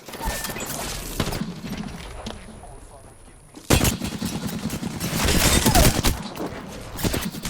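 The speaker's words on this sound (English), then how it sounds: "Opening fire." Rapid bursts of gunfire in the video game Apex Legends crackle loud and close, dropping to a brief lull before another heavy volley, with a player's voice talking over it.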